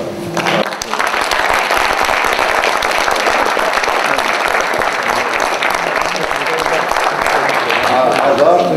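Audience applause at a Serbian film festival screening introduction, dense and sustained clapping filling the hall for about eight seconds after a brief quieter start.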